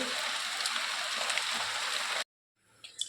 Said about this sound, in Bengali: আমাদের এখানে বৃষ্টি চলে এসেছে, বৃষ্টি পড়ছে